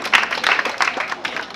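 A short burst of audience clapping at the Uganda Festival in Malindi, Kenya, loose and uneven, with a few louder surges over a couple of seconds.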